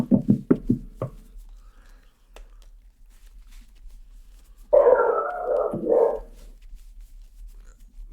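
A dog at home gives a quick burst of four or five loud barks, then, after a quiet gap, a longer drawn-out howl. It sounds close, with no talking over it.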